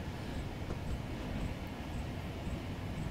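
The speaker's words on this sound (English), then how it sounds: "how often do I drive an A4 locomotive on the North Yorkshire Moors?" Steady rumble of an LNER A4 steam locomotive running on the North Yorkshire Moors line in Train Simulator 2018, a continuous rolling drone with faint regular ticks, no voices.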